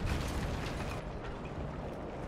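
A tank cannon shot in the War Thunder video game, a sharp loud blast at the start fading into a dense rumbling, mechanical battle din that continues to the end.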